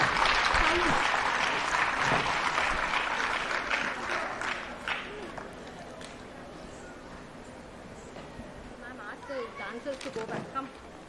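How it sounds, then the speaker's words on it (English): An annual day audience at a school applauds a students' performance. Dense clapping is loudest at the start and gradually thins, with scattered talk and chatter and some brief tonal sounds near the end. "And a big round of applause to all the students for their spectacular performance."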